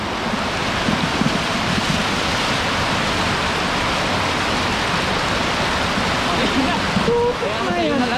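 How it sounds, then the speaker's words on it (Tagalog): Strong water current rushing after heavy rain, a steady broadband roar of flowing water filling the scene from start to end, with a brief voice near the close. "Lakas ng agos."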